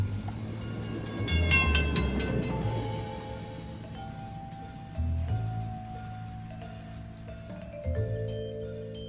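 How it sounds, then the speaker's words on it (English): A train pulling out of a station, with rumbling wheels and rail clatter under ringing tonal horn or whistle notes, loud at first and then easing off as the train moves away. "the train is departing the station"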